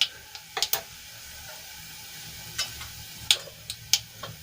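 Scattered sharp pops and crackles of mustard seeds bursting in hot oil, irregular and fairly soft, over a faint steady sizzle with no voices.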